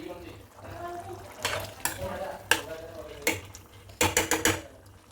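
A pot of beef stew bubbles and sizzles close by, with stirring and bursts of metal utensil clinks against the pot while people talk over it.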